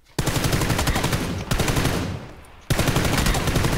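Automatic gunfire crackles in a battle royale video game, with two long bursts of rapid shots separated by a short fading gap, loud and close.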